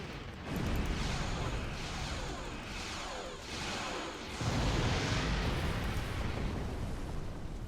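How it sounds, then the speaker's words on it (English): A warp core explosion in Star Trek Online rumbles as a loud, sustained, broadband roar lasting several seconds, swelling in waves and surging again near the end. "And now let's speed up to get away from the warp core explosion."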